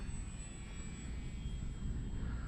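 An X-Fly Glastar V2 RC airplane flies overhead with a thin, steady high-pitched electric motor whine, faint and distant over a low rumble of wind and background noise.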